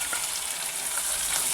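Tomatoes tossed into a hot pan with chillies for a Gujarati dry potato bhaji, frying in an even, close, continuous sizzle.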